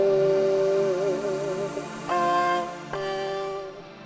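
Sung vocal with an Elastique Pitch harmony a fifth (seven semitones) above, blended mostly dry: a held, wavering note moving into two brighter sustained phrases, with the faint parallel line sitting under the original voice, no other sounds.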